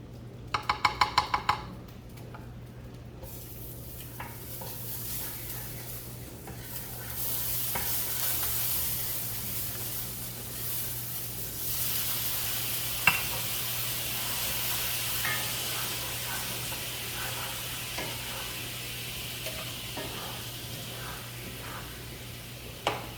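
Seared meat tipped into a hot pan in a home kitchen, with a few clattering clinks at first followed by a steady, close hiss of sizzling and stirring that carries on throughout.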